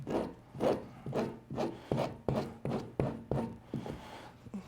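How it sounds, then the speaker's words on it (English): Rhythmic rasping strokes from a sanding block shaping an artificial nose, about ten in a row, each a short scratchy rub at an even pace, close and fairly quiet. "I'm going to do that with the sanding block"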